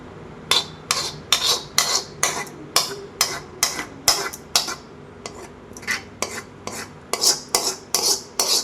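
A utensil spreads batter for a spicy sweet mango roll across a ghee-greased pan, making about twenty rhythmic scraping strokes, sharp and close, with brief pauses between passes.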